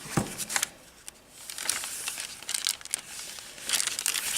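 Sheets of tracing paper and eco-dyed paper crinkle and rustle as they are handled while a junk journal is assembled, with close, soft bursts of crackling scattered irregularly across the clip and no talking.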